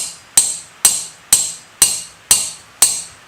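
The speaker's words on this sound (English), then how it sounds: "it's not a particularly big hammer, and I'm not hitting it that hard" Seven sharp metallic taps from a small hammer on a BSA 250 trials motorcycle part, evenly spaced about half a second apart, each ringing briefly before fading.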